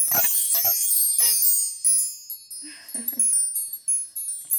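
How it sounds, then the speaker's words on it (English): Several bright, ringing bells struck near the start and then again later, each leaving a long shimmering tone that fades slowly, with faint voice between. "I want to ring the bells."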